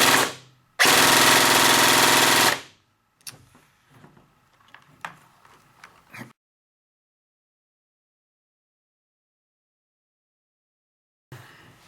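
A VFC SCAR airsoft electric gun fitted with a Kong Power Burst Wizard MOSFET lets off one loud, rapid string of shots, followed by scattered light clicks and handling noises, then long silence and a brief final click.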